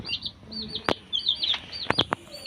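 A chicken chick peeps in a run of thin, high chirps, with a few sharp clicks and knocks between them against a quiet background.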